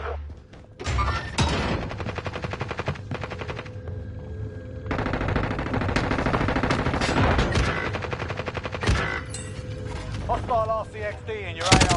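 Rapid automatic weapon fire in a Call of Duty–style shooter game with a Grau rifle, long loud bursts of rattling shots broken by brief gaps and mechanical clanks, with a player talking over it.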